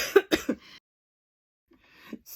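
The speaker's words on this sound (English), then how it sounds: "Sorry, I had a little coughing fit." A person breaks into a short coughing fit, three quick harsh throat-clearing coughs close to the microphone, then a pause of silence before a faint follow-up cough.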